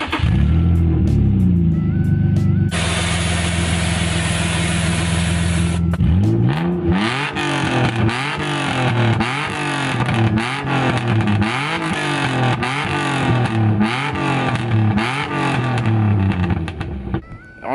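Nissan 350Z engine revving with its dual exhaust cutouts and valves closed: a steady loud idle, then a quick series of sharp, rhythmic throttle blips rising and falling, close and continuous without talk.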